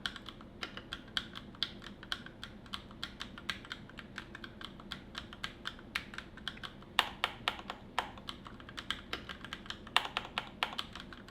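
Keys clatter on a Keychron mechanical keyboard in ordinary typing, a quiet, brisk run of sharp clicks and clacks picked up from a short distance in a still room, with no voices.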